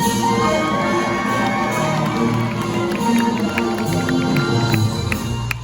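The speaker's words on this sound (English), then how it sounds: "I want you folks to scream and cheer as loud as you can." Audience at a Universal Studios animal actors show screaming, whooping and cheering loudly, a continuous crowd roar with children's shouts mixed in, sustained throughout.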